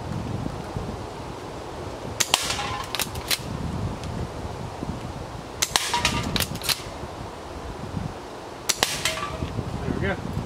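An S&T M870 full metal, real wood airsoft training shotgun fires 0.25 gram BBs at cans from about 45 feet: three sharp bursts of quick cracks and clacks spaced a few seconds apart, over outdoor rustle.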